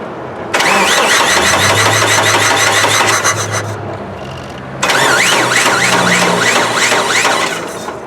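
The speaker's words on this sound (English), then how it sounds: "I'll connect the engine, I'll run it." A 1999 Chevy Sonoma with a 2.2 engine cranks with a rapid starter whir, catches, and settles into a loud, close idle; after a brief drop it cranks again and runs steadily.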